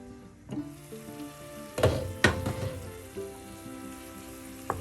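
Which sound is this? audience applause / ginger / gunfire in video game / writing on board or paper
ginger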